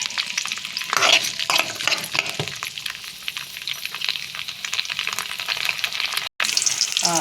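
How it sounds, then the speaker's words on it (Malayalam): Green chillies sautéing in a pan, a steady close hiss of frying with stirring scrapes and a few clattering knocks, plus a brief cut near the end; no one speaks. "അതിലേക്ക് ആ പച്ചമുളക് പച്ചമുളക് നന്നായിട്ട് വഴറ്റിയെടുക്കാം"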